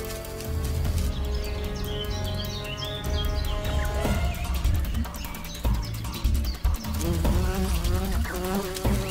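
Close, continuous insect buzzing from a bee locked in a fight with an ant, droning steadily with shifting pitch over a busy natural background of chirps.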